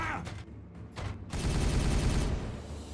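Video game gunfire with a couple of short, sharp bursts followed by a long, loud stream of rapid automatic fire that continues to the end.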